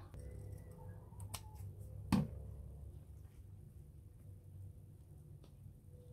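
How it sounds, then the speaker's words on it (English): Scissors snip through the lace frill trimming a pink journal cover, a few quiet close cuts over low background hum, with one sharper snip standing out. "Probably just cut some of this extra frill."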